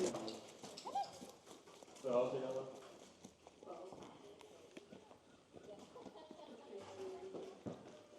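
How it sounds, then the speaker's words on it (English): A horse's hooves clip-clop at a walk as the mare is led out of her pasture for a hoof trim on a horse rescue property, with irregular steps heard under people talking. "So right now we are pulling out Sage for her first hoof trim since she's been on the property"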